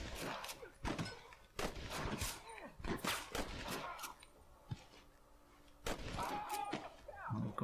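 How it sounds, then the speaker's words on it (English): Gunshots in Red Dead Redemption: sharp, scattered shots at irregular intervals, mixed with voices and game sounds throughout. "I'll just shoot this other little bugger."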